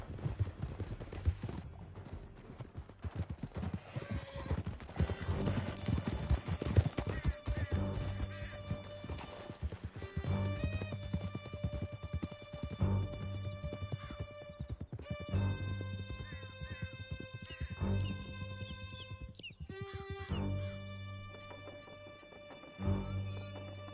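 Horses gallop hard with rapid clip-clop hoofbeats and occasional whinnies during a Red Dead video game ride, with a dense, loud action mix of music and scattered gunfire throughout.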